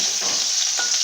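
Cauliflower pieces fry in hot oil in a pan with a loud, steady sizzle, while a spatula stirs them in a few short scraping strokes, close up with no talking.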